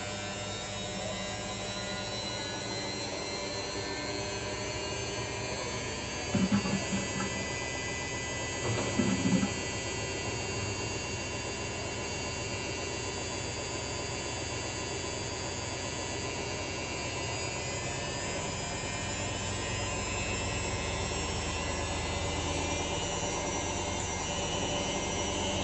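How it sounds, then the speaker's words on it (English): A Hisense front-load washing machine spins in a laundry room, giving off a steady, loud, high whirring whine like a jet engine that runs on without a break, with a couple of faint knocks partway through. "It feels like the jet engine is being turned on in the laundry room."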